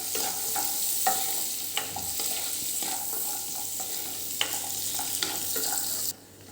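Cashews roasting in a pan over a low gas flame, a soft continuous sizzle with intermittent scraping stirs of a spoon, close and quiet, with no voices.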